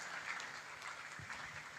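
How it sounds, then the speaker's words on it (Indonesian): Applause from an audience at a parenting talk in a school hall at MTsN 4 Trenggalek, a steady, fairly faint wash of clapping that holds evenly through the short stretch. "Tepuk tangan untuk kita semua."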